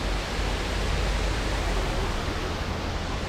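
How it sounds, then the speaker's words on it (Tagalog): A waterfall in the Fujairah countryside of the United Arab Emirates pours with a steady, dense broadband rush of falling water, even and unbroken throughout with no voices over it. "Ayan, ayan ang waterfalls."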